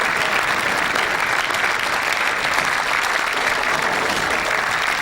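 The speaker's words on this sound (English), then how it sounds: "Good applause from this very sporting crowd here at the Goresbrook Leisure Centre" A sporting crowd at Goresbrook Leisure Centre applauds during a ten-pin bowling match, loud, sustained and even clapping from many hands that carries on for several seconds without a break.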